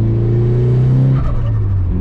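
A 370 hp Mitsubishi Lancer Evolution VI turbo engine revs hard on a mountain road, a loud, close drone that holds high and then drops in pitch as the revs fall.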